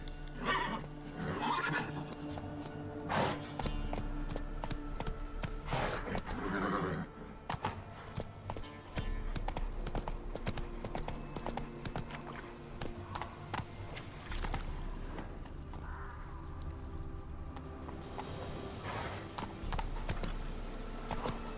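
Roach, the horse from The Witcher 3, whinnies and neighs over rhythmic galloping hoof clops, with game music running underneath throughout.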